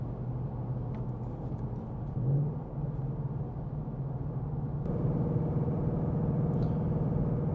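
Interior cabin drone of a 2026 Ford Mustang GT with a 5.0 V8, manual gearbox and Performance Pack, cruising normally, a steady low engine rumble that briefly swells then settles into a slightly louder hum.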